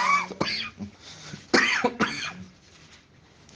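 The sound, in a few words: dry cough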